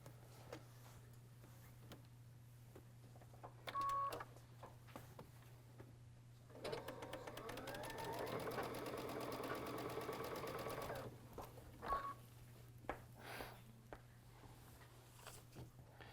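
A sewing machine stitches quilt squares in a run of about four seconds, a steady mechanical whirr that is quiet and close, set between softer handling clicks over a low background hum.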